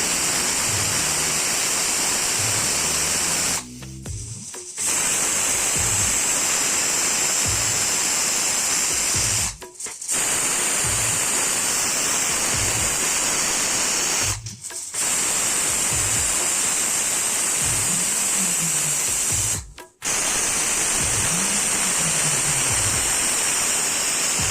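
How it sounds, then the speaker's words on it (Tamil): Steam hisses steadily and loudly from a pressure cooker cooking urad dal and rice pongal, a continuous broadband rush broken by a few brief gaps, with faint low clatter underneath. "நம்ம குக்கரில் ஆவி வந்துட்டு வெயிட் போடுறோம்."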